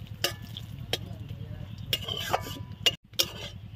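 Whole spices with cumin and bay leaves frying in hot oil in a pan, a steady low sizzle and crackle with sharp ticks and pops of spices bursting and utensil clicks, close by.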